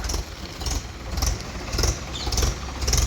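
A Mahindra tractor engine runs steadily as the tractor pulls forward after backing up, a mid-close rumbling drone with low pulsing throb that rises and falls slightly, with no talk over it.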